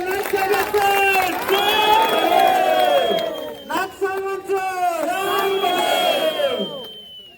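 A large crowd at a village temple fair wrestling match roaring, whooping and shouting in waves, with cheering swelling and dipping over several seconds, loud and close.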